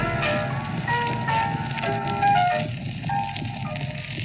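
An old music recording played from a record cut on X-ray film, a crackly, hissy, lo-fi song with faint melody buried under surface noise and rattling crackle, steady throughout.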